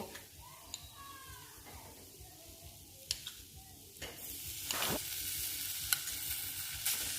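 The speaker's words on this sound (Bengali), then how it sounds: "সন্দেশটা দিয়ে ভালো করে নাড়াচাড়া করে নেব, যাতে সব সন্দেশটা এর মধ্যে মিশিয়ে যায়" Sandesh being stirred into a hot milk and coconut mixture for dudhpuli, with the gas switched off, giving soft scraping stirs and faint sizzling that swell toward the end, with no talk.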